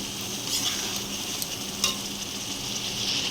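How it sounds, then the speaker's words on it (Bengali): Egg curry being stirred and fried in a pan with a small splash of water, giving a steady soft sizzle with scraping stir strokes throughout, close and alone. "এবার এটা ভালো করে মিশিয়ে নিয়ে কষাতে হবে।"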